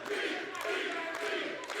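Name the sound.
wrestling crowd cheering in the greater Orlando, Florida area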